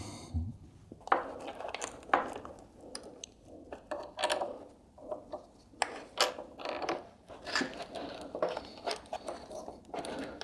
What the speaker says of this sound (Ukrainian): Тепер нам треба закрутити нижній болт.